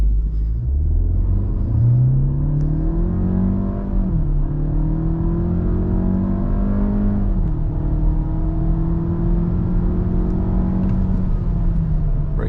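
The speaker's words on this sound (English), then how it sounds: "driving mode in sport, brake, gas" Škoda Kodiaq SportLine 2022 SUV with a 1.5 TSI 150 hp engine and DSG gearbox accelerating hard in sport mode, a steady interior engine drone rising in pitch through upshifts, heard from the cabin.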